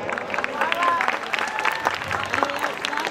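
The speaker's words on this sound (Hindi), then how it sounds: "जोरदार तालियां" Audience applause at a Ramlila performance in Azadpur, a dense, steady wash of clapping over about three seconds, with voices and faint tonal sounds mixed in.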